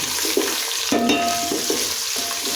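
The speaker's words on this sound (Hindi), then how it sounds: "तो ऑयल गर्म हो चुका है, तो अब इसके अंदर ऐड कर देंगे मेरे पास 2 अदद प्याज है बारीक कटे हुए।" Two finely chopped onions fry in hot oil for an aloo gobi palak dish, giving a close, continuous crackling sizzle with brief louder surges of spatter.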